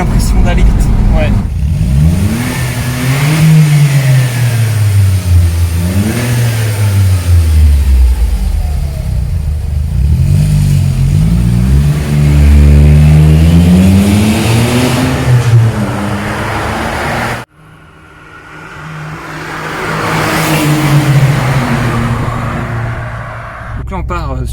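A 2004 Smart Roadster Brabus with a 700cc three-cylinder engine pulls hard along a road, its engine note rising and falling through repeated gear changes, loud and close, with a brief cut before it revs up again.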